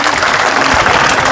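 Dense, loud applause from a crowd at a political rally fills the space in a continuous close wash of clapping, with no talk over it.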